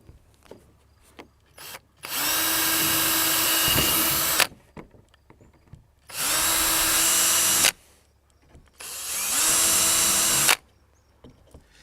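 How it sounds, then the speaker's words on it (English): A power drill bores holes through a kayak hull, three separate loud bursts of about two seconds each with short quiet pauses between them, no talking. "Then it's just a matter of getting the drill and drilling each hole."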